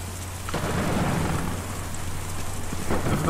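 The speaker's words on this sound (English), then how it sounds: "Difficult to see or even hear a storm like that" A storm in the video game Kentucky Route Zero: steady rain patters on surfaces while low thunder rumbles roll underneath, with sharper cracks near the start and end.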